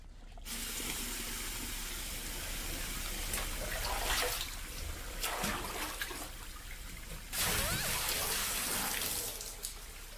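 Water splashes and trickles steadily in an anime scene, running continuously with bursts of heavier pouring and splashing, fairly loud and unbroken with no talking.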